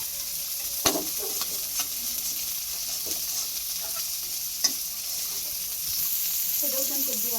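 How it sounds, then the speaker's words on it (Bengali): Chopped onions sizzle in the oil left after frying kalibaus fish, a steady close hiss with occasional spatula scrapes and clicks, and no one talking. "মাছের ওই তেলে আমরা পেঁয়াজ কুচিগুলো দিয়ে দিলাম"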